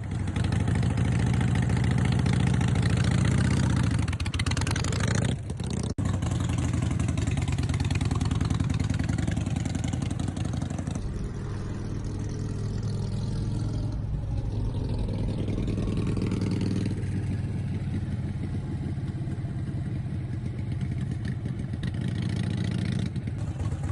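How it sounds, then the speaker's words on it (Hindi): A heavy motorcycle rumbles steadily at idle, with a strong low-pitched engine throb and occasional swells as the throttle is blipped, close and continuous for the whole stretch with no talking. "अदाकारा सना ने हैवी बाइक चलाना सीख ली है।"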